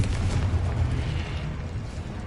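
Blasting Confringo spell explosion in the Hogwarts Legacy video game, a loud sustained rumbling boom with heavy low-end roar that fades slightly over a couple of seconds, no talking.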